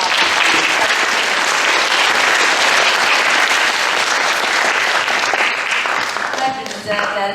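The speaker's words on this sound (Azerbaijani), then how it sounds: "Və mən onu istəyərdim ki, hamımız alqışlayaq." An audience applauds at a concert honouring Heydar Aliyev's 103rd anniversary at the Gara Garayev Central Art School. Loud, dense clapping fills the hall continuously and thins slightly near the end, with voices mixed in beneath it.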